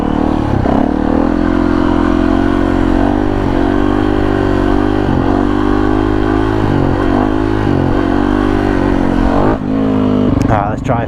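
A 2017 Yamaha WR450F supermoto motorcycle's single-cylinder engine runs loud and steady throughout, rising and falling through repeated throttle blips while riding, with a sharper rev burst near the end.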